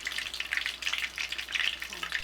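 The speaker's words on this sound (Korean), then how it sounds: "기름에 넣자마자 반죽이 부풀어서 얇은 양파 튀김이 아주 먹음직스럽게 변해요." Battered onion rings bubble in hot oil with a steady, close crackling sizzle that swells and fades in soft waves, with no voices over it.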